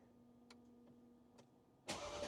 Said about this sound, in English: Let's do a cold start just to turn the car around